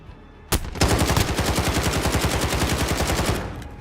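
Rapid automatic gunfire in the Modern Warfare video game, a loud close burst of evenly spaced shots lasting about three seconds after a single opening shot.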